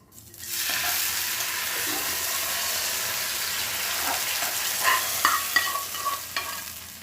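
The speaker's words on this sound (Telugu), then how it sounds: "పప్పు అంతా ఇట్లా తిప్పుతున్నాను చూడండి" A spoon stirs dal cooked with gongura leaves in a pot, a steady close scraping and bubbling simmer with a soft sizzle, and a few sharper clinks near the end.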